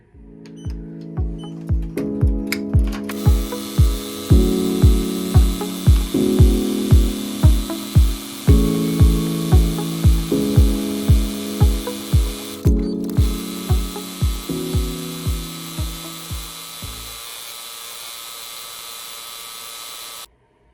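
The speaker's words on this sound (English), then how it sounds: "we're going to let it go ahead and stitch the remaining part of our design here" A BAI Mirror 15 embroidery machine stitches an applique design on a crewneck: a steady, loud mechanical chatter of rapid needle strokes in regular bursts, with the pitch and rhythm shifting between sections before it stops near the end. No one speaks.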